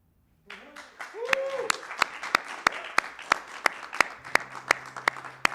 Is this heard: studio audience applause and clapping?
yes